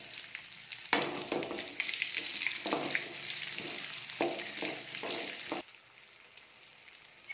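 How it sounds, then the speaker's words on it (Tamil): Shallots and garlic sautéing in a pan for egg kulambu, a steady sizzle broken by repeated stirring scrapes and rattles before the frying noise suddenly drops away. "சின்ன வெங்காயம் நல்லா வதங்கிருச்சு"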